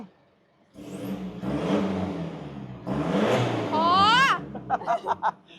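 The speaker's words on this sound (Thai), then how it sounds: "มาเบิ้งเครื่องครับ เครื่องเป็นเครื่องสามพันตัวท็อปครับ" A 3.0-litre diesel pickup truck engine revs up in loud bursts, with people chattering and laughing nearby and a rising whine near the end.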